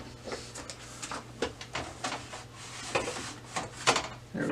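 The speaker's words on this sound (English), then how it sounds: "I'll go ahead and add some paper into the printer." Paper being loaded into the tray of an HP ENVY Pro 6458 printer: close-up rustling, sliding and scattered plastic clicks and knocks over a low steady hum.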